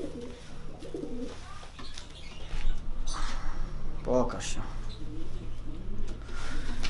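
A breeding pigeon, a blue hen of racing lines, coos in a low rolling burst close by, with loft cooing in the background while someone speaks over it.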